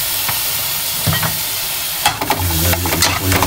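Pechay tagalog sizzling loudly in a hot pan as soy sauce is poured in, with a steady frying hiss and stirring clatter swelling partway through.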